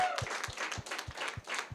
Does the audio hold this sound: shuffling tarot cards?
no